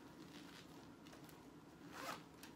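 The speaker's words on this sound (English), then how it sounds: "nice zipper pocket" Zipper on the pocket of a chocolate pebble Italian leather wallet crossbody bag, a few soft close pulls followed by a longer, louder zip near the end, heard up close with no talking.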